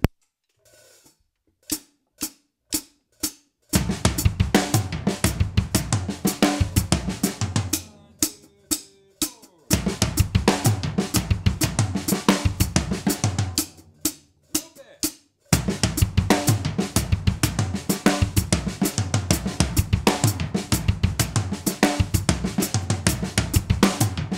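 Loud acoustic drums play a long, continuous fill pattern, linear hits tumbling around the kit in quick succession, broken by a few brief pauses, with no voices.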